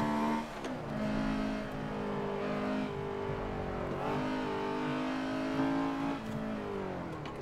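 A car engine in the Forza 7 racing game revs and shifts pitch steadily while drifting through a corner, a continuous droning whine rising and falling with throttle, alone without talk.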